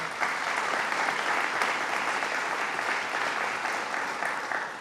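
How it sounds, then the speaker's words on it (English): Steady, dense audience applause fills a theatre at a governor's announcement, sustained and even throughout with no pauses, loud and close. "Let's give her a round of applause."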